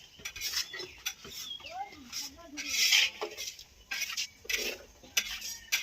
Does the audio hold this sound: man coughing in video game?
no